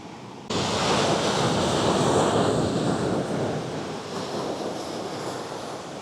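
Ocean surf breaking on a shore on Hawaii's Big Island, a steady loud wash of waves with some wind noise on the microphone, no talking.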